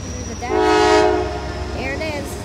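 Horn of a freight train led by two NS Dash 9 locomotives at night on the NS S Line, one loud blast with rich harmonics, then softer horn tones and rumble.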